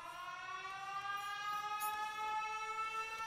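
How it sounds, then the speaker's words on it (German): An alarm siren in the Factorio video game drones as a steady, wavering tone, held evenly and moderately quiet throughout with no voices over it. "Sirene."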